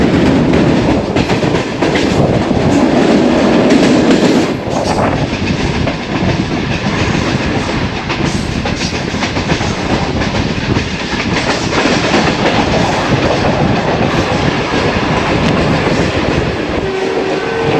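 The Tezgam passenger train running from Rawalpindi to Lahore, heard from on board as a loud, continuous roar of wheels and carriage rumble with a rhythmic clickety-clack throughout.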